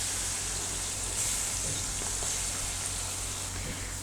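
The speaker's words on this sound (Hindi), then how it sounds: "टमाटर को हमने इसमें सौते कर लेना है" Tomatoes sauté with garlic in a pan for vegetable pasta, a steady, close sizzle and crackle with a faint low hum beneath and no talking.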